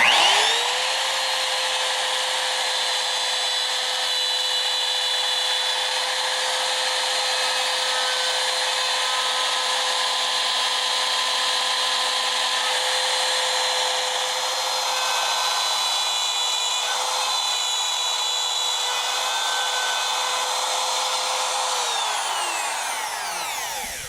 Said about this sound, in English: if you have a variable speed router, put it on its highest speed